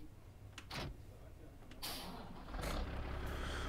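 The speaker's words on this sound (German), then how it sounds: "Guck, wir fahren eben einen Truck." Truck in Farming Simulator 19 pulling away, with a low engine rumble building and brief hissing air bursts like brake release, close and steady.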